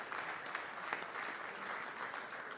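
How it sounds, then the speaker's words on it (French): Steady applause from a seated crowd at a young entrepreneur trophy ceremony, a continuous soft wash of many hands that sounds somewhat distant and quiet, with no voices over it. "que je vous demande de bien applaudir, bien fort,"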